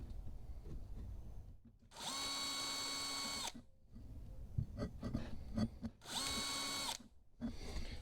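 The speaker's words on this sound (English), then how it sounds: "So now it's time to do some drilling." A power drill whirs in two bursts while drilling holes, spinning up steadily and winding down, with scraping and handling noises between them.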